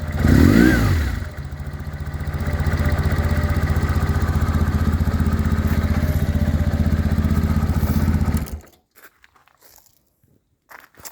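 A BMW R1100S Boxer Cup motorcycle's boxer engine runs close by in a steady, even idle with a louder rev at the start, then cuts off abruptly near the end, leaving quiet.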